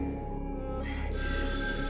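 A telephone rings with an incoming call amid a tense scene in a Russian-language action drama, the bell tone steady and fairly close, layered over a low continuous background hum with no talking.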